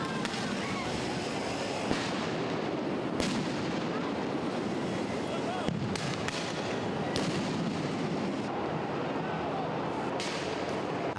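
Rubber bullet shots and tear gas bombs go off at a street protest in São Paulo, sharp bangs and booms at irregular intervals, several loud reports over a constant rumble of crowd and street noise, with distant voices.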